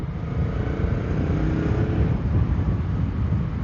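A motorcycle engine rumbles steadily at close range, its deep exhaust drone echoing inside a tunnel.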